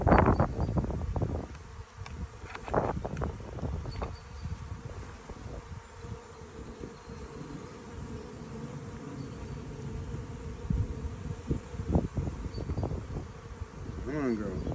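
Honey bees drone steadily around an opened hive as a hive tool pries at the box, with a continuous buzzing hum under occasional scraping and handling sounds.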